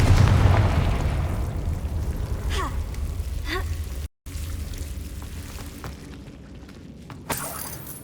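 Confringo fire spell explosion in the Hogwarts Legacy video game: a loud burst at the start that decays into a crackling rumble, with a few sharp pops, a brief cut of silence and another burst near the end.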